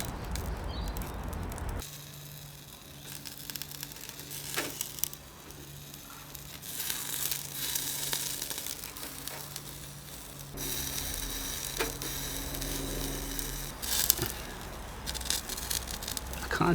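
Butter sauce sizzles on barbecue vegetables on an outdoor grill, a steady close frying hiss with a low hum, briefly fading and returning.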